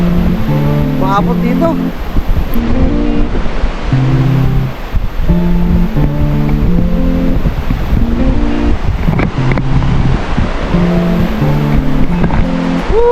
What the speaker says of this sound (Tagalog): Ang lakas ng falls.